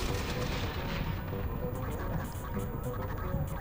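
Sniper gunfire in the shooter game Aliens: Fireteam Elite, a dense, continuous barrage of cracks and booms blending with a busy, loud battle din throughout, with a voice speaking over parts of it.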